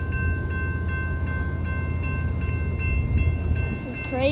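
A train runs past in a steady, loud rumble with rhythmic wheel clicks and a sustained tonal whine, close by; a voice rises briefly at the end.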